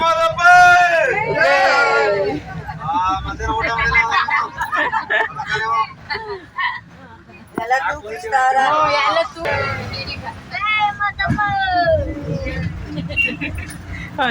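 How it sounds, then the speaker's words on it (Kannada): Devotees on a crowded bus near Mahadeshwara hill chant loud, overlapping praise to Mahadeshwara in rising, rhythmic calls over a low engine hum, with several voices joining in. "ಹಾಗೆ ಮಹದೇಶ್ವರನ ಜೈಕಾರ ಕೂಡ ಶುರುವಾಗಿತ್ತು"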